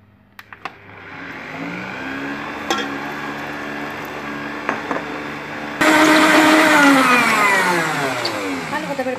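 An electric stand mixer kneads whole wheat dough with a steady whirring motor drone, a few knocks and clicks early on, then a sudden jump to a louder, harsher grinding whir partway through.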